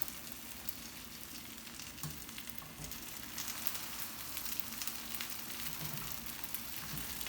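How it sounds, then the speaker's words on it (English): Bread slices pressed into a hot pan for pan con tomate sizzle and crackle in a steady, fairly quiet fry, with small pops scattered throughout and no talking. "You should hear it sizzle a little bit."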